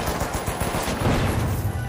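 Automated turret firing in the video game The Finals, a steady, dense stream of rapid shots rattling nonstop at close range with a heavy low thump under each burst.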